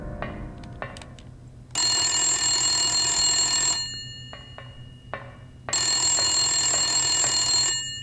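An old telephone in the Silent Hill video game rings in two long, loud bursts separated by a pause, with a few faint taps and knocks between them and no speech.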